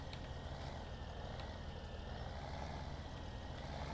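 A truck hauling a log trailer turns in the Farming Simulator 17 logging game, its engine giving a steady, continuous rumble and drone at moderate level throughout.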